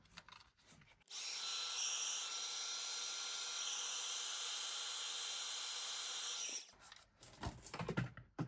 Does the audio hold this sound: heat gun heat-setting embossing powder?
yes